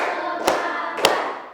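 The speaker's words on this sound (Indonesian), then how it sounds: "marilah kita tepuk semangat sebelum belajar" A classroom doing a rhythmic spirit clap before a lesson, with two sharp, loud claps spaced about half a second apart over a continuous background of room noise and murmuring.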